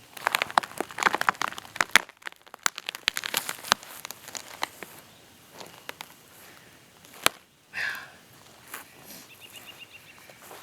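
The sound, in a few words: ripping rotted roots out of old tree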